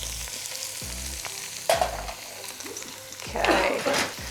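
Vegan corn chowder ingredients sizzling and crackling in a hot pan, with bursts of louder frying as ingredients are stirred or added, close up.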